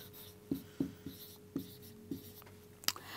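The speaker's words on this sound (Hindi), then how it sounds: "मैं यहाँ पे लिखती हूँ आपके लिए" Pen or marker strokes write out a word, a series of close, soft scratchy taps and short strokes at irregular intervals, with a faint steady hum beneath.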